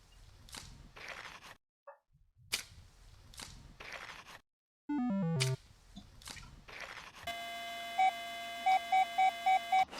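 A metal detector sweeping for buried coins sounds a run of clear electronic tones: a falling stepped pitch, then a steady buzzing tone topped by several short, sharp beeps. Faint rustling and digging noises come through in the gaps.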